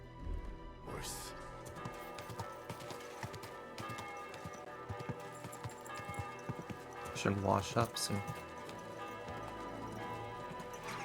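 Horse hooves clip-clop steadily at a walking pace in the video game Kingdom Come Deliverance 2, close and rhythmic under game music, with a brief spoken line over them and a louder jostle of movement near the end.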